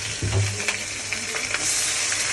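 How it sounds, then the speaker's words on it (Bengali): Fish roe frying in a pan with ginger and garlic, a loud, dense close sizzle with a stirring scrape near the start. "এই যে মাছের ডিম ভুনা করছি।"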